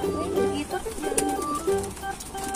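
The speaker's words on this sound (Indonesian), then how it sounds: "Apa ada merpati baru lagi, Ardi?" Soft pigeon coos repeat in a low, throaty rhythm over a busy background, with a brief voice mixed in.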